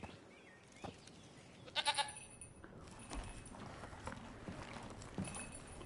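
A goat bleats in The Witcher 3: Wild Hunt, a short wavering cry in the middle of a busy game soundscape with faint hoof-like clops and ambient noise.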